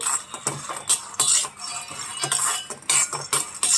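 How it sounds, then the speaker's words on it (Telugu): Peanuts stir-fried in a thick, heavy kadai, with a steady run of dry rattling, scraping and clinking as a utensil moves them around the pan, close and fairly loud with no talking. "మందపాటి కడాయి పెట్టుకొని మనం రెడీ చేసి పెట్టుకున్న వేరుశనగుళ్ళు వేసి ఒక నిమిషం ఫ్రై చేసుకోండి"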